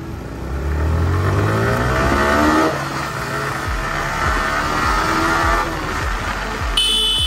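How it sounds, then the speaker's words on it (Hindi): A motorcycle engine revs up and accelerates at full power on a highway, its pitch climbing, then drones steadily at speed with strong wind rush and road noise. "अब दौड़ाएंगे अपनी बाइक को पूरे फुल पावर।"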